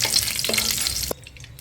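Green chillies sizzle and crackle in hot ghee in a pan, a bright busy frying hiss with a stir, cutting off abruptly near the end.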